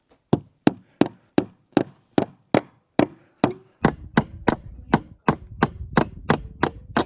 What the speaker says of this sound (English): I'm gonna drive the nail into the wood.